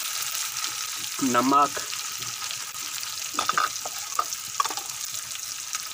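Browned onions with freshly added tomatoes sizzle steadily in a hot pan, a continuous close frying hiss with a few spoken words briefly over it.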